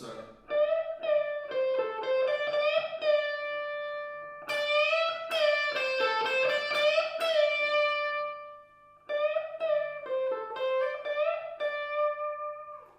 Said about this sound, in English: Sometimes I like a distortion sound that is almost clean.